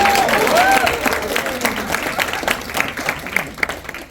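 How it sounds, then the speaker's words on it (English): An audience at a youth leadership summit applauds, the clapping strong at first and then thinning out and fading over a few seconds, with a brief voice near the start. "please give yourselves a round of applause for being here"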